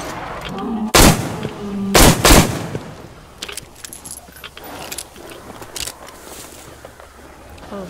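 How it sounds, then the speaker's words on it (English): Loud gunfire from the video game Metro Exodus, three sharp close shots early on, the second and third coming in a quick pair, followed by a quieter stretch of faint clatter and ambient game sound. "The gun noises are too loud."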